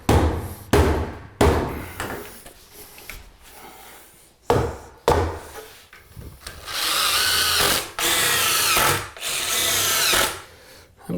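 A power drill drives screws into a 2x6 board during a bathtub remodel. Close, repeated bursts of motor whir start and stop in an uneven rhythm, and the later runs are longer and louder.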